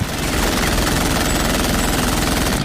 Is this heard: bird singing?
no